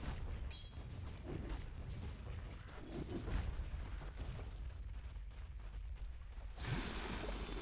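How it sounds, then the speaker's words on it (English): A defensive tower crumbling in a Dota 2 match, heard as a faint, prolonged rumble of crashing debris and dull booms over several seconds, with a brighter burst near the end. "Dire's bottom tower has fallen"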